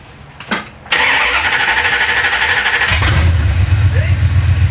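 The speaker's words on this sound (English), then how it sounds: "It didn't start while it was cranking. It started when I let the key off." A Mopar engine with a 5-pin or 4-pin ignition module fault cranks loudly on the key for about two seconds, then catches abruptly and settles into a close, rough running idle.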